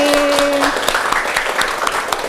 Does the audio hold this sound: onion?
no